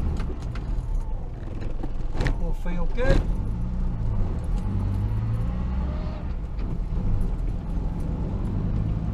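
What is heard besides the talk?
Morris Minor car driving on test drive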